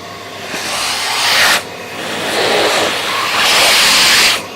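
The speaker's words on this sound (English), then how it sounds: "Now this is my little CTL sys." Festool CTL SYS workshop vacuum running in bursts, a steady broadband rushing whine that swells and drops as it sucks debris off a bench, with short pauses between pulls.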